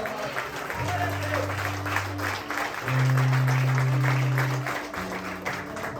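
A church congregation applauds and praises Jesus during a Portuguese-language service, steady crowd clapping for several seconds over sustained organ or keyboard chords.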